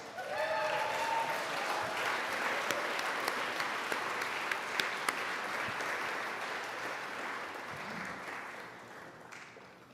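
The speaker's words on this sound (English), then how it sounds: "Can we give them a massive round of applause, please?" Sustained audience applause for award honorees at a mayor's arts awards ceremony, dense and steady clapping from a large crowd throughout, tapering slightly toward the end.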